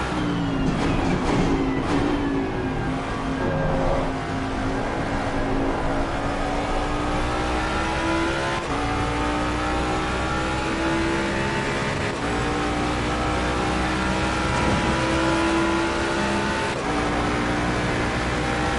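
A Ford Mustang GT3 race car in Assetto Corsa Competizione roars continuously, its engine note climbing through the gears and dropping on each upshift, loud and steady for the whole stretch.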